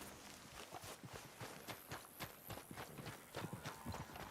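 Horse hooves clip-clop in an irregular walking rhythm in a cowboy video game, fairly close and quiet, with no talk over them.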